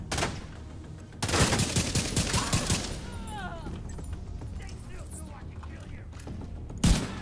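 Gunfire from The Division 2 plays out in a fight against heavier enemies: loud bursts of shots in quick succession, a long burst after a short opening volley, then quieter game effects and a final sharp shot.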